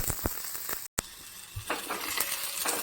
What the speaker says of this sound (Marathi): कांदा लाल होईपर्यंत तेलात चांगला फ्राय करून घ्यायचं